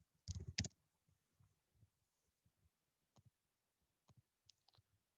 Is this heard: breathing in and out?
no